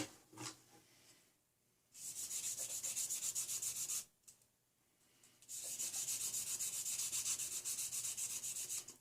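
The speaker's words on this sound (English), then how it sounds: "a sanding stick you can go both ways" Two long bursts of steady back-and-forth rubbing of a sanding stick on tweezer tips, a bright scratchy rasp with an even rhythm, close up, separated by a short quiet pause.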